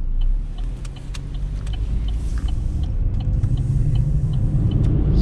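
A big dually pickup truck drives past on a highway, a loud steady rumbling roar of engine and tires that swells as it passes close by.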